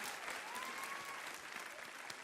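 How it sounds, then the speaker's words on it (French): A crowd applauds steadily throughout, dense clapping with no pauses, fairly loud and close. "On peut encore les applaudir"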